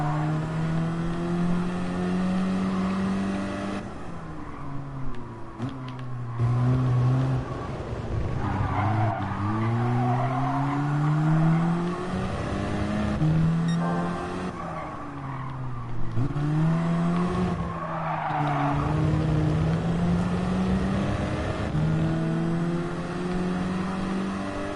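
Race car engines in Gran Turismo Sport rev up and down through gear changes, rising and falling in pitch, with repeated tire squeals and skidding throughout, loud and continuous without talk.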